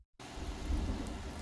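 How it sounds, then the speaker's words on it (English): Steady rain with a low thunder rumble in Farming Simulator 19, starting abruptly after a brief silence, with a dense hiss of rain and a deep swell in the middle, no voices. "Oh, here comes the thunder."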